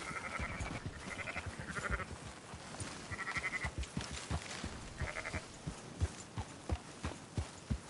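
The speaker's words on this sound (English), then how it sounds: "Marston, why don't you leave the sheep to me?" Sheep in Red Dead Redemption 2 bleat several times, loud and close, over a steady rhythm of hoofbeats and outdoor ambience.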